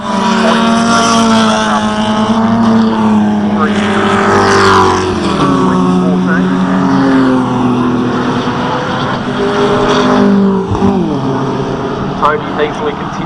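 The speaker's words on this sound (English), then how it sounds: "powered though by the Chevrolet V8 engine." Super TT race cars with Chevrolet V8 engines roar past at the Winton circuit during a December race. The engines drone loudly and continuously, their pitch rising and falling as the cars pass, while a commentator talks over them.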